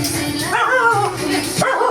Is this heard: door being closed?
no